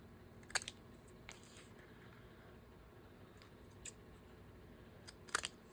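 Scissors snip through paper tickets being cut into tags, a few brief crisp cuts spaced apart over quiet room tone, close to the microphone.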